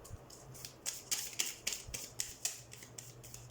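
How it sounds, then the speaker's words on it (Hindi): Tarot cards are shuffled close up in a quiet room. The crisp riffling comes in quick, irregular bursts of soft flicks and snaps, with a faint low hum underneath. "सबसे पहले हम कार्ड शफल कर लेते हैं"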